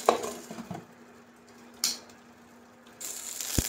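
A metal lid clatters back onto a cooking pan holding chillies and garlic frying for green tomato chutney, with a sharp clink near the start and another midway, then a sizzle rising at the end.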